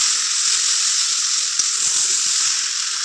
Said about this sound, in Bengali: দেখো বন্ধুরা আমি ভালোভাবে কষিয়ে নিচ্ছি তরকারিটা।